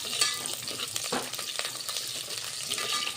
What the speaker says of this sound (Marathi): आता हा कांदा होऊ द्यायचा आपल्याला, थोडा कलर येऊ द्यायचा कांद्याला